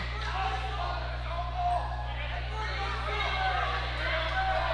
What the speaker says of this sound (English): The crowd's offering their opinion on both sides here